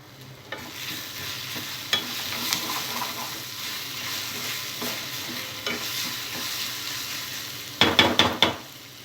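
Green chillies fry in hot oil with a continuous sizzle as they are stirred, with occasional spoon scrapes and a quick burst of clattering strokes against the pan near the end.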